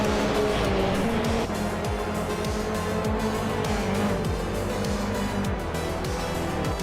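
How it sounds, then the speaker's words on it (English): A 2008 KTM Crossbow GT4 races in a video game, its engine droning loud and steady with repeated gear-shift sweeps and tire noise throughout, no voices. "driving a 2008 KTM Crossbow GT4"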